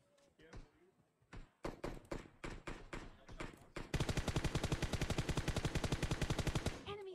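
Gunfire in an online shooter game: a few spaced single shots, then a sharp rapid automatic burst of evenly spaced cracks that runs loud and close for several seconds.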